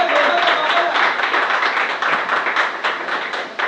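Dense, steady applause from an audience at a Hindi poetry recital, many hands clapping continuously throughout with a faint tone running under it near the start.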